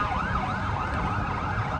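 Police and fire truck sirens wail, rising and falling steadily, loud and continuous, over a low rumble of traffic in Abu Dhabi.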